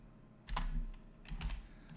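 Keys clatter on a computer keyboard as a web address is typed, two short quick bursts of clicks, close and fairly quiet against a low background hum.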